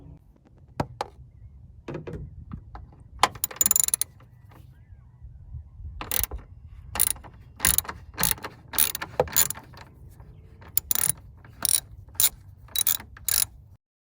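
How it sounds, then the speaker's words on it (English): A ratchet with a 12 mm socket on a 12-inch extension loosens the bolt on a Kia Rio battery hold-down plate, sending out several bursts of rapid, close clicking that stop and start, with quiet pauses between strokes and no talking. "we'll have to remove that with the 12 millimeter socket on that 12-inch extension"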